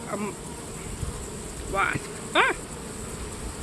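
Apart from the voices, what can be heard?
wasp buzzing around an open beehive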